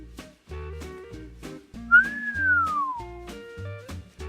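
A single person whistles a clear rising then falling tone over a soft musical backing, lasting about a second.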